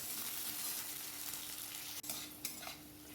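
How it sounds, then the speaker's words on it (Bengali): Green chillies and vegetables sizzle steadily in a hot pan on a home stove, with a brief stir and a couple of spoon scrapes near the end. "এবার একটু ভালো মতন ভাজা হোক।"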